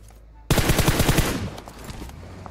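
Close, loud burst of rapid automatic gunfire in PUBG Mobile, roughly a second of evenly spaced shots that cut off abruptly, with the echo then trailing into quiet.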